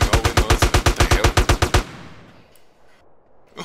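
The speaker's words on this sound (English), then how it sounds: "Oh, that's a really big shotgun." Rapid burst of about fourteen heavy gunshots from a big video-game shotgun, evenly spaced and loud, cutting off after under two seconds into a fading echo and quiet ambience.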